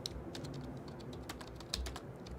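Quick, uneven keystrokes clatter on a computer keyboard, close and fairly quiet, in short bursts of taps with one slightly harder stroke near the end, with no talking.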